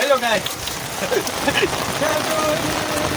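Dense, steady rain patters and hisses throughout in Mahuva, Gujarat, loud and close, with faint voices under it.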